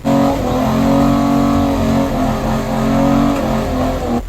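A VH Pacer with a 265 Hemi engine revs hard and steadily on a drag strip, its loud, dense mechanical roar rising and falling slightly without a break and sitting close to the microphone.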